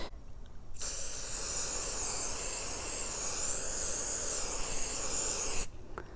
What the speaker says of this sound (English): So we'll just go ahead and spray it